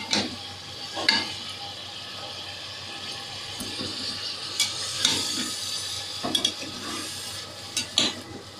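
Yogurt and spices sizzle and bubble steadily in a frying pan for chicken qorma, with occasional stirring scrapes and clinks rising over the continuous hiss, close up and without talk.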